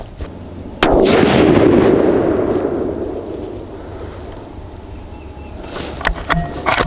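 A Savage 12FV rifle fires one Hornady 178-grain ELD-X load with a loud, sharp report. A long rolling echo follows and fades over several seconds, then a few small clicks are heard close by.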